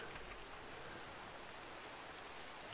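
Steady, faint rain falls in a survival sandbox video game, a soft, even hiss with no pauses and no voices.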